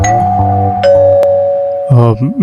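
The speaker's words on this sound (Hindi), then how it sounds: "पर तभी घर की डोरबेल बजी।" A two-tone doorbell chime rings clearly, sustained tones ringing out, with a voice speaking briefly right after.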